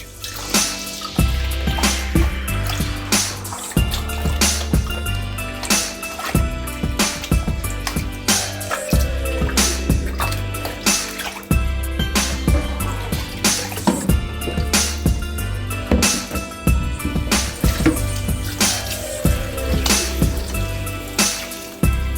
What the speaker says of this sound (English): I'm going to wash it off with some vinegar and water